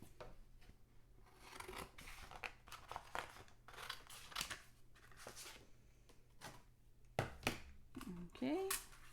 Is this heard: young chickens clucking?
no